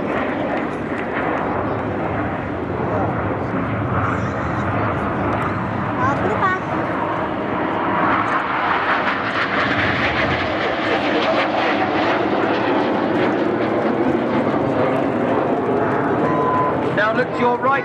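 Red Arrows display jets roar steadily overhead at an air show, trailing red, white and blue smoke, a loud sustained jet rush with crowd noise and a commentator talking over it throughout.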